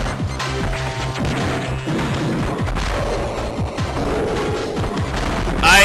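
Missiles pound the boss B.O.X. in Metroid Fusion, a dense, continuous barrage of crashing impacts and booms layered over driving game music, loud throughout.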